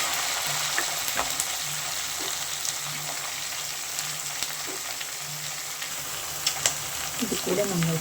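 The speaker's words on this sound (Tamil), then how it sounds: "வெங்காயம் நல்லா வதங்கிடுச்சு. இப்போ நம்ம பச்சை மிளகாய் போட்டுடலாம்." Onions and green chillies fry in a pan for a fish kuzhambu, making a steady close sizzle with repeated spoon scrapes and stirring clicks, and a brief cluster of louder clatter near the end.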